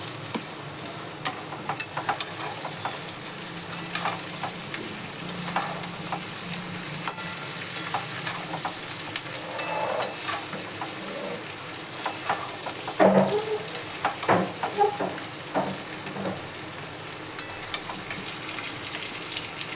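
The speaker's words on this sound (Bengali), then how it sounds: "এইবার ফ্রাই চিকেনগুলো অ্যাড করে দিলাম" Fried chicken pieces tossed into a hot pan for chilli chicken, sizzling and crackling steadily for about twenty seconds, with scrapes and stirring knocks from a spatula, close and continuous with no voices.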